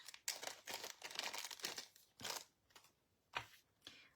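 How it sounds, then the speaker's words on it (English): A crafting card is pulled out of a crinkly plastic bag close up, giving bursts of rustling and crackling plastic that pause and resume in short bouts, with no voice. "Let's take this out of the plastic bag because we'll need to cut that."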